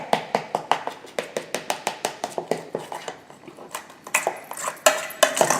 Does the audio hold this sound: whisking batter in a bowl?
yes